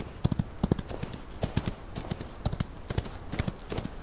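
Horse hooves clip-clop in the Old West video game Outlaws of the Old West, a brisk uneven run of sharp hoof strikes at moderate distance with no voices over them.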